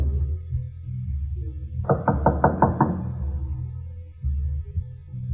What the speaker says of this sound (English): We're going to knock on the door.